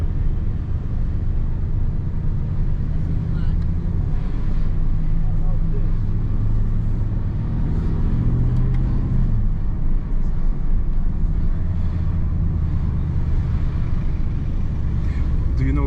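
A 2025 Aston Martin Vantage driving around the Monaco F1 circuit, its engine and exhaust giving a steady, loud low rumble throughout, with faint talk inside the car.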